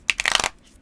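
A flexible, bendy tarot deck being shuffled, a quick papery riffle lasting under half a second, close and moderately loud, then fading to quiet.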